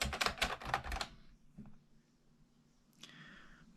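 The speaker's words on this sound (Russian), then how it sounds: "Я собираю клавиатуру, ставлю туда клавиши." Keys being snapped onto an old ES-1841 computer keyboard during restoration, a quick burst of plastic clicks and clacks in the first second, then a faint tap and one more click, close and quiet.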